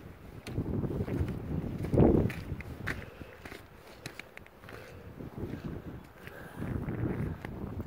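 Breeze blowing across a mountain pond on a trail above a creek, a steady low rushing wind buffeting the microphone with gusts, loudest around the middle and near the end, with faint footsteps.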